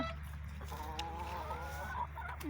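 Bantam roosters on a small poultry farm, crowing and clucking close by, with a drawn-out call over a low steady background hum.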